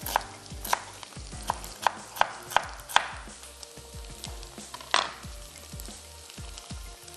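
Beef and vegetables frying together in a pan for a stir fry, with a loud steady sizzle and a series of sharp, evenly spaced utensil knocks against the pan, then a heavier clatter, up close.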